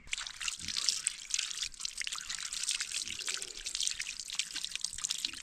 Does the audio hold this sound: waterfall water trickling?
yes